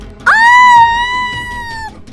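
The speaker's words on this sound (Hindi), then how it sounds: "सौम्या की जोरदार चीख निकल गई" A loud, sustained high-pitched scream from an animated Hindi horror story bursts out suddenly and holds for over a second before tapering off, with no talking around it.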